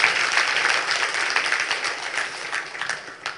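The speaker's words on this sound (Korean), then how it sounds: "박수로 한번 영광 드립니다." Dense, steady applause from a church congregation during a Friday worship service, filling the room for a few seconds and tapering slightly toward the end.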